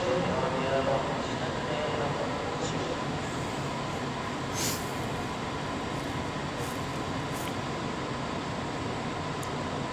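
An Avanti West Coast Class 390 electric train pulls away from Coventry station, a steady broad rumble and hiss with occasional brief higher squeals. A voice speaks faintly beneath it.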